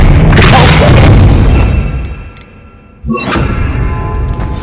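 A loud, booming spell blast from the video game Hogwarts Legacy, a dense roaring burst that fades over about two seconds and is then followed by a second sharp impact.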